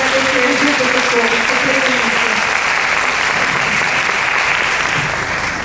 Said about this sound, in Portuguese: Então, uma salva de palmas para a professora.